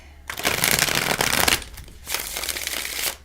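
A deck of tarot-style oracle cards being shuffled by hand in two bursts of crisp riffling and rustling, close and fairly loud, with a short pause between, no talking.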